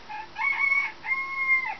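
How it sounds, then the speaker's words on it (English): A rooster sheltering beneath an RV crows once, loud and close, in a drawn-out two-part cock-a-doodle-doo with nothing else around it. "Sorry for the chicken."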